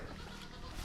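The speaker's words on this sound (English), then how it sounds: "So here's the goats we met last time." Goats on a steep hillside, a brief muffled bleat under steady outdoor wind noise, fairly faint and at a moderate distance.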